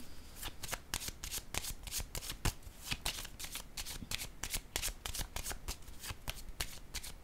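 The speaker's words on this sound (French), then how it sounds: "Je vais déposer une carte sur éveil." Tarot cards being shuffled and laid down during a reading, a steady fast run of crisp riffling flicks and soft slaps, close and continuous with no talk.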